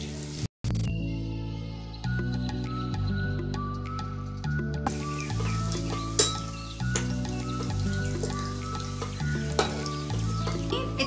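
Half-fried chicken pieces for Chicken 65 fry a second time in hotter oil in a wok, giving a loud continuous sizzle close by, with occasional stirring clinks and scrapes of a spatula, and no talk.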